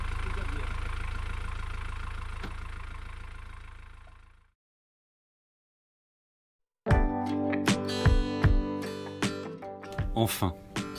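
A repaired engine running in neutral with a bit of throttle idles with a steady low rumble, then cuts out into silence; afterward comes clattering and music-like tones.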